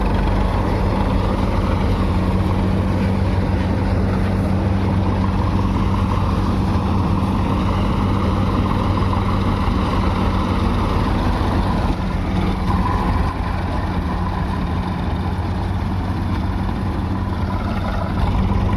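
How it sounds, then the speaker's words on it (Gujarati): A tractor engine pushing the feed at a groundnut thresher drones loud and steady nearby, a continuous low rumble with no voices. "પપ્પા ટ્રેક્ટરથી ધક્કો દે ચરાને."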